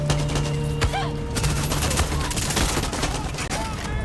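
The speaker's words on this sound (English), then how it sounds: "Sometimes it's best to just burst fire your weapons." Weapons fire in short bursts during a Far Cry 6 firefight, loud and close, with repeated sharp cracks clustered across the clip and a voice faintly underneath.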